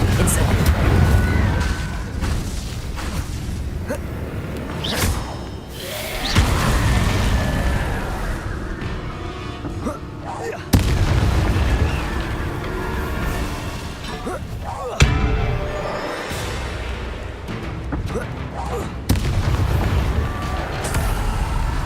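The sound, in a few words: Confringo spell explosion, Hogwarts Legacy video game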